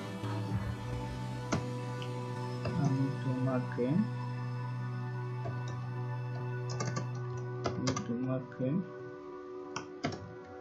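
Keys on a computer keyboard are tapped in Microsoft Word in short, irregular bursts of soft clicks at close range, with a steady hum in the background and a voice talking at moments.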